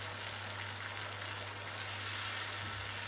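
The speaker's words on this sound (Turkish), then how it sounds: "rendelemiş olduğum domatesleri de ekleyip kavurmaya devam ediyorum" Grated tomatoes and garlic sauté in a pan, giving a steady, even sizzle and hiss with a low hum underneath, close and unbroken, with no talking.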